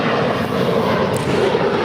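A heavy airliner roars down a Los Angeles International Airport runway on its takeoff roll, a loud, steady broadband jet rumble that holds level throughout with no voices.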